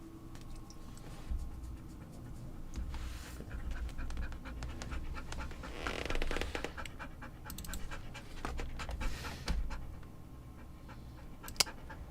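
A dog pants steadily and rhythmically close by, quick breaths continuing throughout with a few faint background clicks and no talking.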